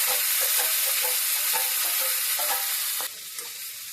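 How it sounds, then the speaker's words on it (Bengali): Mutton frying in a pan with browned onions, cardamom, cinnamon and cloves for a Bengali-style curry, a loud close sizzle with repeated stirring scrapes throughout, easing slightly toward the end. "পেঁয়াজটা লাল হয়ে এসছে, এখন আমি মটনটা দিয়ে দেবো।"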